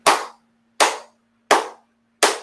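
Four sharp, evenly spaced clap hits from a sound effect on a live sports podcast stream, each loud and close with a quick decay, over a faint steady hum and no talking.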